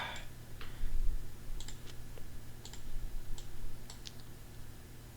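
Sparse computer mouse clicks and light key taps sound at a desk during font editing in FontLab, close and crisp, arriving singly and in quick pairs over a low steady hum, with no talking.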